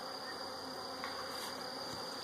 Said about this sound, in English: There are tons of bees, so they'll consume that quickly.